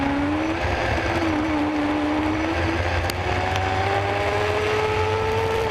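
Race cars on the final lap of a dirt track heat race, a loud steady engine roar with rising and falling pitch as cars pass, no talk over it.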